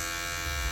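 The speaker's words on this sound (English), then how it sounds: "You're gonna close the clipper and just flick it out." An electric hair clipper with its lever closed runs steadily at close range, a continuous buzzing hum held for under a second while fading hair during a self-cut.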